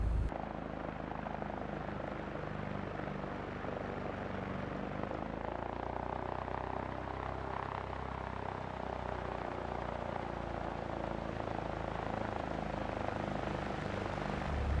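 Steady propeller drone of a Cessna 172 SP idling and taxiing in the X-Plane 11 flight simulator, a continuous low engine hum with buzzing harmonics, even in level throughout and heard alone.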